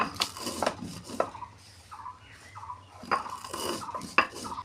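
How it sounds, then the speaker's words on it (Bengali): Dry-roasted spices for a mango and hog plum pickle are ground by hand, producing soft, irregular scraping and knocking strokes, close and fairly quiet. "শুকনো কড়াইতে ভেজে রাখা মশলাগুলো আমি এখন বেটে নেব।"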